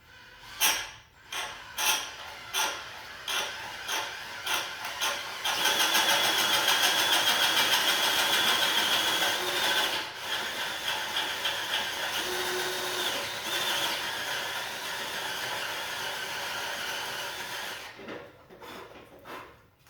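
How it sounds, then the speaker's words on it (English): A power drill whines steadily for several seconds after a few short bursts, drilling a hole in wood, then trails off into quiet clatter. "So we're going to drill a hole right here."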